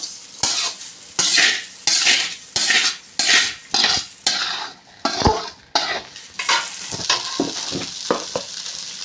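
Egg rice is stirred and tossed in a sizzling pan with a spatula, a rhythmic series of close, loud scraping strokes with quicker, lighter scrapes toward the end.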